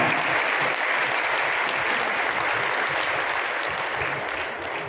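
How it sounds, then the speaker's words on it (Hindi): Crowd at a public rally in Ghatigaon block, Gwalior Chambal, applauding to welcome Chief Minister Mohan Yadav; dense, continuous clapping from a large audience, loud and steady throughout, with no speech over it. "आदरणीय मोहन यादव जी का ऐतिहासिक तालियों के साथ स्वागत"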